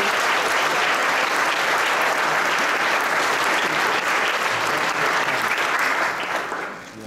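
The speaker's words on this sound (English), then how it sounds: "just give them a round of applause." A church fellowship audience applauds its worship band in a dense, loud, sustained wash of clapping that holds steady and then tapers off near the end.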